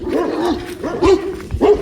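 Dog on a farm giving a few sharp, close barks and yips in quick succession, loud and alone without talk.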